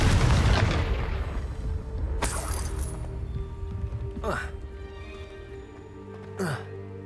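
A Confringo fire spell blasts in Hogwarts Legacy on PS5 with a loud, close boom that rumbles and decays over a few seconds, followed by two brief whooshing spell swishes, while a voice speaks in the background.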